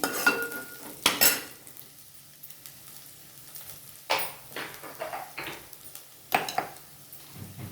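Okra pieces are stirred in a pan with turmeric and salt, the spoon scraping and clinking against the metal in irregular knocks over a soft, steady sizzle.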